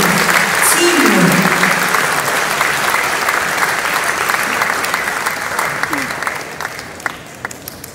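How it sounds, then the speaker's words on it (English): A concert audience at a live orchestra performance gives a warm, sustained round of applause, a dense, steady wash of many hands clapping that tapers slightly toward the end. "Shall we give them a warm round of applause for such wonderful teamwork?"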